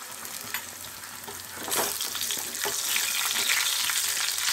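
Salted potatoes fry in a pan, first a low crackle with a few spoon taps, then a louder, denser hiss that swells midway and holds steady, close and without speech.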